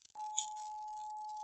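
A steady pure solfeggio healing tone, sounded alone: a single clean, unwavering pitch that starts abruptly after a brief click and holds evenly at moderate loudness.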